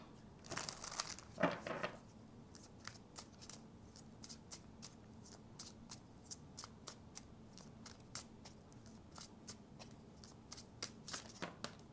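Tarot cards are shuffled repeatedly, a steady run of quick, crisp riffling flicks, close and fairly quiet, with no talking.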